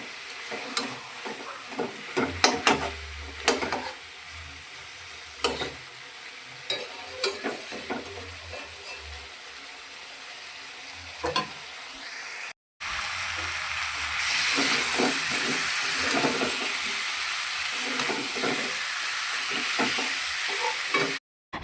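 Chicken is stirred and braised with spices in a hot pan: repeated scraping strokes of a spatula for the first half, then a louder, continuous sizzle and hiss of frying with occasional stirs.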